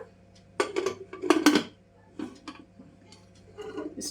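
A metal pot lid, fitted without its gasket, clatters and clinks as it is set on and closed, several sharp knocks with short pauses between them.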